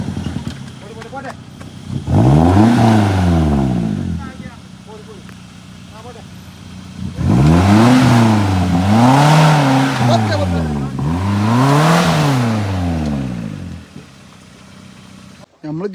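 A Maruti Gypsy 4x4 on an off-road track revs its engine in several rising and falling bursts, loud and close, with a steady idle rumble between the surges.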